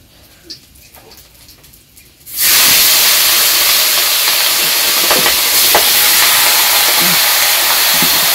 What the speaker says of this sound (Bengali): কড়াই তেল দিয়ে জিরা টিরা দিয়ে দিল, আর মাংসটা দিয়ে দিব, মাংস কষিয়ে নেব ভালো করে।